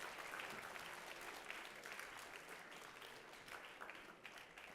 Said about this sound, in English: Let's give one more round of applause for all of our candidates.